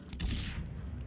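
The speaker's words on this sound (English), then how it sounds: "Is it a cannon firing kind of?" A huge cannon fires in the video game INSIDE: one heavy, distant boom with a low rumbling tail that fades out over about a second, with no talking.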